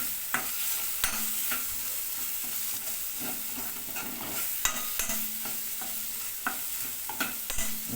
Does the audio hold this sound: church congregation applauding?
no